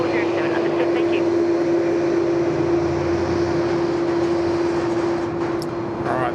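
Loud General Electric CF6 jet engines of an airliner drone steadily at Sydney Airport, a strong sustained whine over broad rumble, heard from the control tower with continuous roar throughout.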